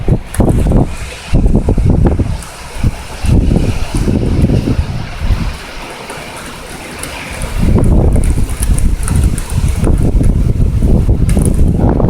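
Violent thunderstorm over Amiens in June with heavy rain and wind, giving a loud continuous roar of rain and gusts buffeting the microphone close up, swelling and easing in waves with no talk.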